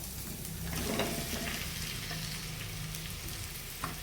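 Chicken pieces added to onions sizzling and frying in a pan for a Thiruvananthapuram-style chicken fry, a steady close crackle with light stirring, no voices.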